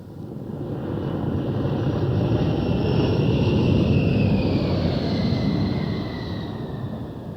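An A-10 Warthog jet aircraft flies past, a loud broad engine roar with a whining high tone that swells in and fades out over several seconds, with no voices.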